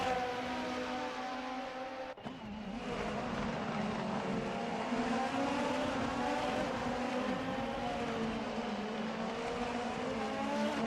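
A Formula race car runs a hot qualifying lap at Sepang in a racing video game. A continuous high engine whine rises and falls through the gears, drops out briefly near the start, then sustains steadily.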